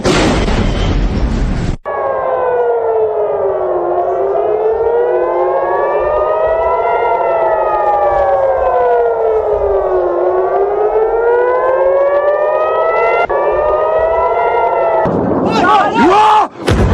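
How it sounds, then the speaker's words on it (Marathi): Ambulance sirens wail through city streets after a missile strike in Israel, a loud, continuous rising-and-falling tone, with bursts of rough noise at the start and end. "पूर्ण रस्त्यांवरती असंख्य अँब्युलन्सचे सायरन वाजत असल्याचा व्हिडिओ व्हायरल झालाय"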